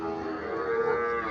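A young Sahiwal heifer calf moos at a cattle market in Comilla, giving one sustained, fairly loud, tonal low call that lasts throughout, with no talk over it.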